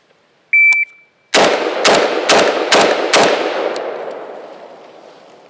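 Electronic shot timer beep, then five rapid, loud shots from an IWI Galil Ace rifle chambered in 5.45x39, fired in quick succession at an outdoor range, each crack ringing out and decaying afterward.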